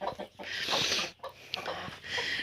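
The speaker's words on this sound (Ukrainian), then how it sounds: "вона ще квокає" A broody hen clucks in a backyard flock, soft repeated low clucks close by with scratchy rustling, no talk.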